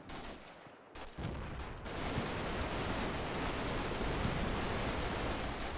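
Heavy gunfire fills a wargame video game battle: a dense, continuous roar of shots and blasts after a brief quieter opening, loud and unbroken.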